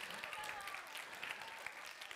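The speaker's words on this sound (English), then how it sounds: "So a round of applause for our winners," A crowd at a business presentation in Brisbane claps for the winners, a faint but steady patter of many hands with a voice speaking quietly underneath.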